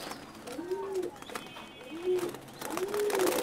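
Caged silver diamond doves give three soft, rising-falling coos at close range, spaced about a second apart over faint background noise.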